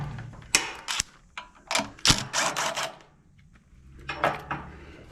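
Tools clatter while two 10mm bolts come off the front of the carburetor on a Generac GP-series portable generator: a string of sharp metallic clicks and knocks in uneven bursts, close and fairly loud, with brief pauses between.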